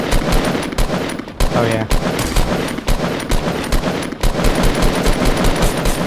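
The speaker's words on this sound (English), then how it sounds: "someone shooting me from behind" Rapid automatic gunfire from Fortnite rattles in loud, close bursts with short gaps between volleys, and someone briefly speaks over the shooting.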